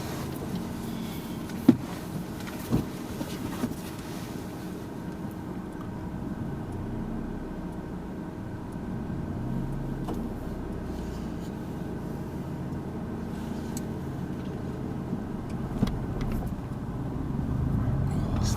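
During a driving lesson, a car's cabin carries a low, steady engine and road rumble, quiet and continuous, with a few small clicks scattered throughout.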